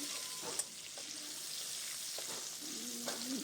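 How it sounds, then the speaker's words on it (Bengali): Shrimp fry in hot oil in a wok, giving a steady loud sizzle with a few scrapes and clinks of stirring throughout. "কড়ার মধ্যে তেল দিয়ে তারপর চিংড়ি মাছটা দিয়ে লাল লাল করে ভেজে নেওয়া হচ্ছে"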